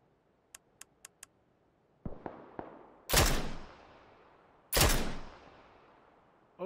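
SKS rifle shots in the video game PUBG. Two loud, sharp reports with long echoing tails ring out over a spread of about two seconds, preceded by light clicks and a few softer thuds.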